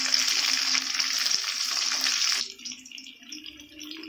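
Onion and tomato sauté in a pan for a Tamil breakfast kulambu, giving a steady loud sizzle for about two and a half seconds before it drops to a softer, patchy crackle.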